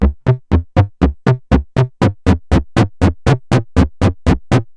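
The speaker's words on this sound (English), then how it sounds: "we start to get a nice overdriven sound" A rapid, steady pulse of overdriven synth notes from a Behringer Model D, loud and gritty, with a heavy low end and a bright edge on each hit.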